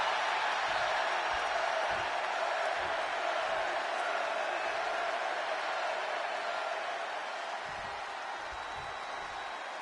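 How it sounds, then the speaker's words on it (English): A Chicago arena crowd roars in the WWE 2K26 wrestling video game, a steady broad wash of cheering at moderate level, with faint low thuds underneath. "just listen to this crowd here in Chicago"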